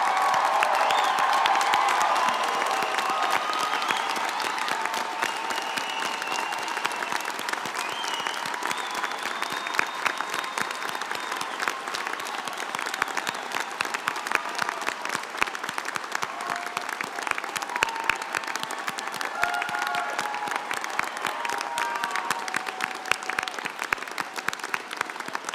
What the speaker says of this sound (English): please rise so that we can applaud you for your significant contributions to our